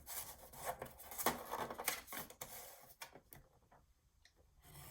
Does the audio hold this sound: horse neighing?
no